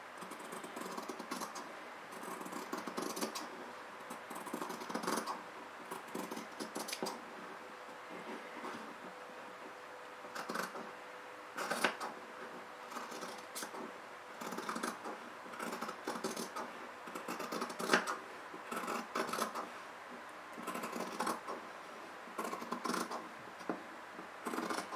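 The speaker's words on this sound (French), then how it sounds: "Pour ça, je prends mes ciseaux, je découpe délicatement," Scissors cut around the edge of fabric for a baby pajama holder in slow, careful snips, faint and steady, over a busy low background hum with no talking.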